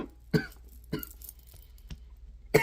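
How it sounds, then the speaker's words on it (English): A person coughs in a few sharp separate bursts, close and fairly loud, with a softer throat sound in between and no talking over it. "I have a cough coming"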